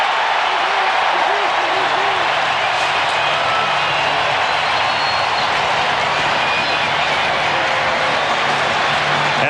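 A 1995 World Series Game 1 crowd at the Braves' Atlanta stadium rises and roars for a 3-0 pitch, a steady, dense wall of cheering that holds without letup throughout.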